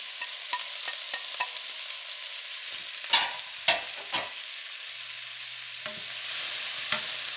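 Ginger and shrimp fry in a pan for fried rice, with a steady soft sizzle running throughout. Several sharp scrapes and clacks come from stirring, clustered mid-clip, and a low hum joins near the end.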